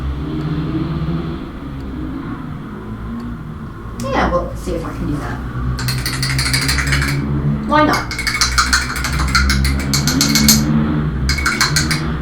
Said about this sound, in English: Some people going past on very, very loud motorbikes.